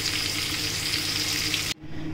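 Pointed gourd (potol) fries in oil left from frying fish, a steady dense sizzle close to the pan that cuts off abruptly near the end.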